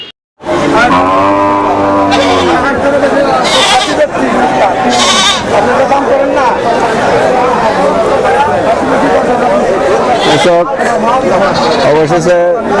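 Goats bleating at a busy wholesale goat market in Manikganj, several loud nearby bleats rising repeatedly over constant crowd chatter and people talking.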